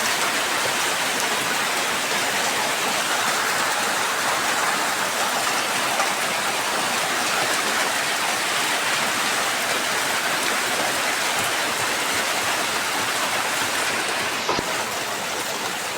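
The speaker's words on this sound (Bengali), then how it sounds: "ভিডিও করতে করতে হঠাৎ বৃষ্টি নেমে পড়লো" Sudden rain pours down outdoors in a steady, dense hiss that stays loud and unbroken throughout, with no voices.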